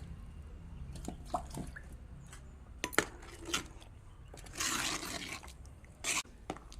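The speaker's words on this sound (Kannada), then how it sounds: "ಇವಾಗ ಪದಾರ್ಥ ಚೆನ್ನಾಗಿ ಕುದೀತಾ ಇದೆ ನೋಡಿ" A thick lentil curry simmers and boils in a pot, giving scattered soft bubbling pops, plops and wet squelches at an uneven pace, fairly quiet and close, with a brief burst of hissing texture midway.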